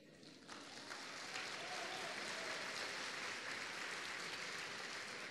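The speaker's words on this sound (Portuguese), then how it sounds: "Vamos aplaudir, amados." A church congregation breaks into sustained applause after a brief quiet moment, a dense steady clapping that fills the room and holds at an even level to the end.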